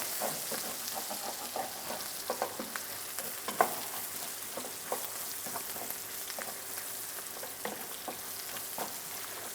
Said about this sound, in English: So our onions are already cooking. We want them nice and brown.